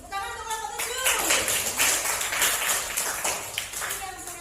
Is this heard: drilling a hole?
no